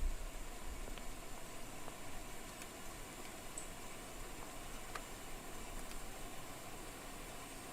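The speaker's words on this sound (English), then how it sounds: "I can hear the APU startup." The APU of a Challenger 650 in the X-Plane 12 simulator spins up as a steady, fairly quiet turbine hiss with a faint high whine and occasional soft clicks.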